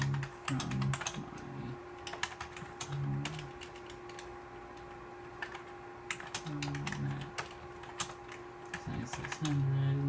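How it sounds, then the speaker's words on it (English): Keys clatter in uneven bursts as a message is typed on a Power Macintosh 7600 keyboard running Mac OS 8.6, with pauses and a steady machine hum underneath. "And I'll just type out a message."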